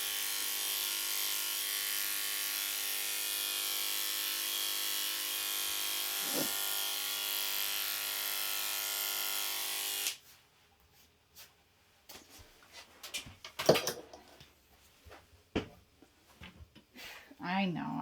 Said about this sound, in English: I don't like having to shave your tail either